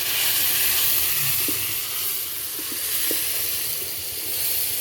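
Tomatoes hitting a hot frying pan over a rural Kenyan cooking fire, giving a steady broad sizzle with faint bubbling and a few soft clicks of utensils, continuous and fairly close with no voices.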